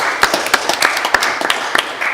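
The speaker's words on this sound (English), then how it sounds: "Can we again have a big round of applause for our speakers" A debate audience in a Birmingham hall claps for the speakers, a brief round of sharp, fairly close hand claps in an uneven rhythm.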